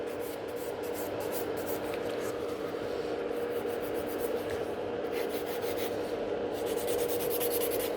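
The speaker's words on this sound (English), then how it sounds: "so I'm filing more from underneath" Gel nails being filed with a hand nail file at a salon, a close continuous scratchy rasping that keeps up steadily throughout with no talking.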